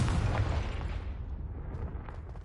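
A Confringo fire spell detonates in a Hogwarts video game, a loud deep boom with a rumbling blast that rolls off and fades over a couple of seconds.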